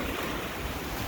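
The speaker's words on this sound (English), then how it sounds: "as you can see and probably hear, it's just pouring today" Heavy rain pouring down on a sheep farm, a dense, loud, unbroken wash of noise filling the whole moment with no voices.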